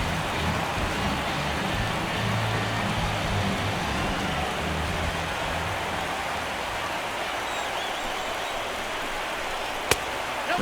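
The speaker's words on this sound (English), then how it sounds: "The rain, as we've mentioned, coming down fairly steadily here at game time." Steady rain pours over a baseball stadium at game time in MLB 16 The Show, a continuous broadband hiss lasting throughout, with one brief sharp click near the end.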